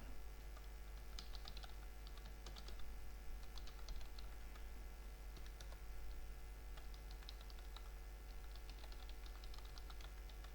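Faint, steady typing on a computer keyboard while writing in Microsoft Word: soft irregular key clicks run throughout over a low background hum.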